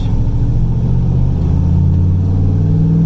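A turbocharged IROC car's engine drones steadily from inside the cabin while cruising, a loud low rumble with a gradual rise in pitch toward the end.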